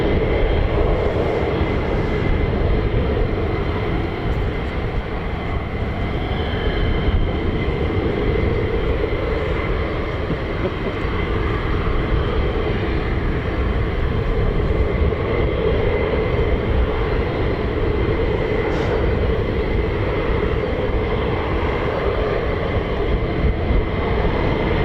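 US Air Force aircraft at RAF Lakenheath, a steady, loud, broad roar of engine noise held without a break throughout, filling the air with no talk over it.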